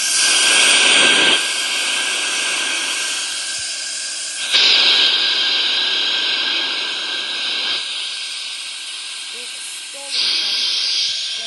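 Loud, steady jet engine roar with hissing, surging up at a few points, a simulated Southwest Airlines airliner under full power for landing in a flight simulator game; continuous and close.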